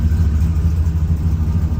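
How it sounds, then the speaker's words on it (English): A car engine idles steadily after a below-freezing cold start, a loud, close, low rumble with an even throb and no voices. "Still idling nice."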